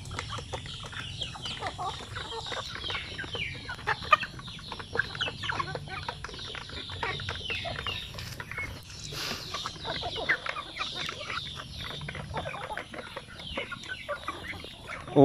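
A flock of chickens clucking and squawking continuously, a busy overlapping chorus close by, with no one speaking.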